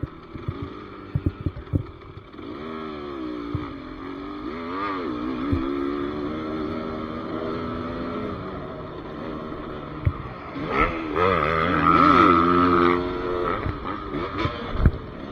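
A GPX TSE300L two-stroke motorcycle being ridden close by, its buzzy engine note rising and falling steadily with throttle changes and a sharper rev toward the end.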